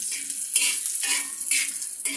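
Sliced onion and whole cumin seeds frying in hot oil, a steady close sizzle with a spoon stirring through the pan in regular scraping sweeps about every half second.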